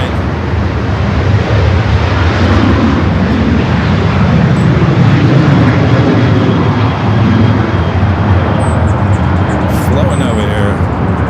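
A Frontier airliner takes off at LAX airport, its engines a loud, steady roar that fills the whole stretch without easing.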